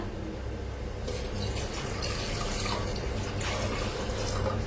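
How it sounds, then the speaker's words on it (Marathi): Water is poured from a vessel into a pot set on a gas stove, a steady close splashing stream that grows slightly fuller toward the end. "आता हे सगळं पाणी वतून घेऊया ह्याच्यात"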